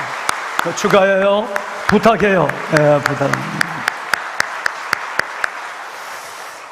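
A church congregation at a service claps in a steady run of individual claps, while someone speaks briefly over the first half.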